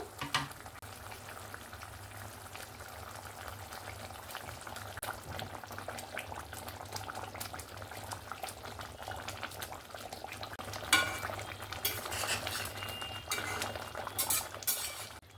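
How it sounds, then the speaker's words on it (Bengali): Katla fish rezala gravy bubbling in a pan, a soft continuous boil and sizzle with occasional clinks of a utensil as the fish is stirred, louder scraping near the end. "মাছটা দিয়ে এখানে ভালো করে আমি নাড়াচাড়া করে নিয়েছি।"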